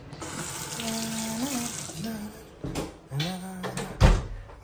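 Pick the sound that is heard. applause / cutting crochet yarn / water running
water running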